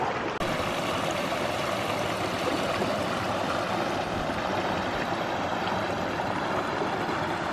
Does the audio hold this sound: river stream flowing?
yes